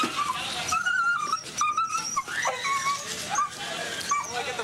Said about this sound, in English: a call for a violent dog trapped underneath a car